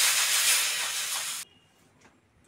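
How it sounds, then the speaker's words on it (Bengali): Dried red chilies and panch phoron dropped into hot oil for a fish curry give a loud, bright, hissing sizzle that cuts off abruptly about halfway, leaving quiet room tone and a faint clink. "ওই তেলের মধ্যে শুকনো লঙ্কার পাঁচ ফোড়নটা দিয়ে দেবো"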